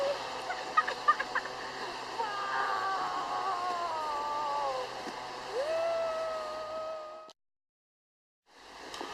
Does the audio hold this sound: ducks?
yes